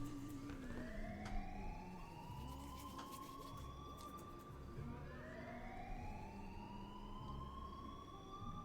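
A wailing emergency siren in the NoPixel GTA roleplay game, rising and falling in long sweeping cycles over a steady rumbling background, moderately loud with no voices.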